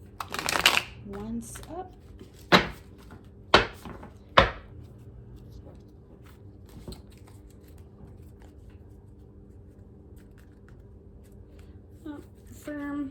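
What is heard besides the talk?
shuffling brand new tarot cards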